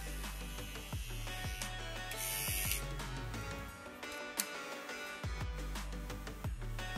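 A Philips QT4009 electric trimmer runs with its blades buzzing in a steady motor hum, punctuated by repeated short clicks and scraping passes, fairly quiet and close, with no voices.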